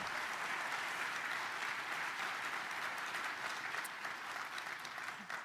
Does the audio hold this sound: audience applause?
yes